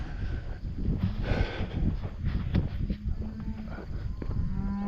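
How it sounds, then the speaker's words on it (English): Cattle in a paddock mooing repeatedly, several low, drawn-out calls close by over light wind and rustling. "You can actually see the cows have grazed underneath the wire"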